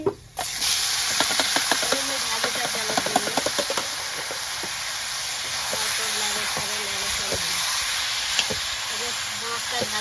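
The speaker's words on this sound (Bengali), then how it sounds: "মাছটা ভাজে" Pangas fish frying in oil on a village stove, a steady broad hiss and sizzle that runs the whole time, with clinks and someone speaking over it.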